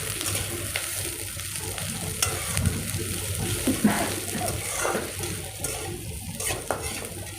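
Onions stir-fried with curry leaves and green chillies for a bitter gourd and potato gravy, a steady soft sizzle with light stirring and scraping of the pan throughout.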